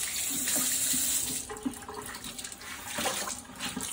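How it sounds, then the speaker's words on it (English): Running water pours steadily as a mop is rinsed under a tap, with splashing and bursts of water close by, alone with no talk. "I'm going to rinse it one more time."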